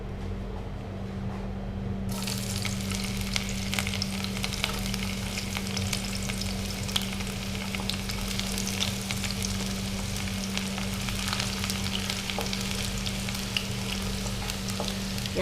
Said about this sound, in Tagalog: mainit na yung ating mantika at lalagay na natin yung ating bawang